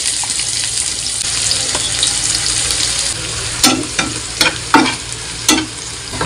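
Chopped onion frying in hot oil with whole garam masala and bay leaf, a steady close sizzle running throughout, joined in the second half by several sharp scraping stir strokes of a spatula against the pan.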